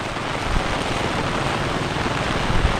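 Steady, fairly loud rain falls throughout, a dense unbroken hiss with no voices, during monsoon rice transplanting in Konkan fields.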